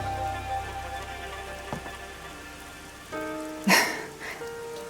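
Rain patters steadily in the video game Rain Code, a continuous soft wash with a brief sharper splash near the end, heard under the game's music.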